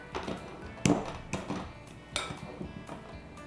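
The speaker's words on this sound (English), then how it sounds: "So I've got a small banana here, and I'm just going to mash this up." A few soft squishing thuds and clinks of a utensil mashing a small banana in a bowl, irregular and close, with no talking.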